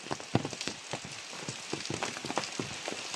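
Rain falls heavily in a Konkan village, a dense patter of drops striking surfaces with irregular louder splashes close by, continuous and fairly soft in level.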